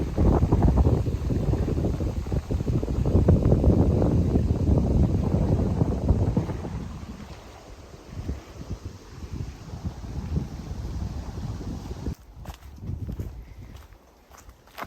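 Strong low wind buffeting on a lakeshore, heavy at first then easing, with rustling and crunching footsteps on the ground.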